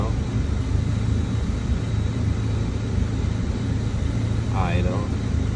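A 2009 Mini Cooper with the 1.6-litre engine idles with a misfire, a close, uneven low rumble with a slight irregular stumble, along with faint ambient noise and a brief whistling sound near the end.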